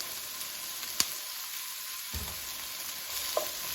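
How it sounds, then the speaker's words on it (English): Onions fry in a pan with salt added, a steady close sizzle with a few sharp utensil clicks and brief stirring scrapes, no voices. "Let it cook until you smell the good smell of the onion."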